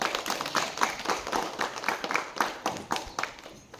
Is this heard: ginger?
no